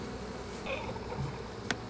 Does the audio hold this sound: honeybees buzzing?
yes